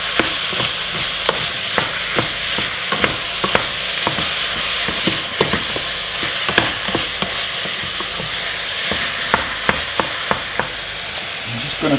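Lasagne sauce sizzles loudly in a pan on a gas hob while being stirred, a constant frying hiss broken by regular scraping, clattering strokes of the spoon throughout.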